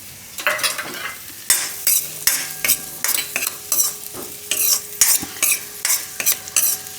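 Chopped onion sizzles in melted ghee in a pan while a utensil stirs it in steady scraping strokes, loud and close with no talking, as pumpkin soup gets started.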